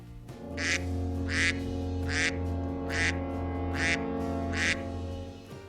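A duck quacks six times in an even, spaced rhythm, each call loud and close over a steady low background hum.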